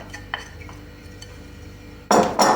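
A young-cabbage salad is tossed with dressing in a bowl: quiet clinks at first, then two loud, close bursts of wet mixing and utensil scraping near the end.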